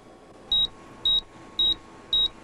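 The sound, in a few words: computer terminal beeping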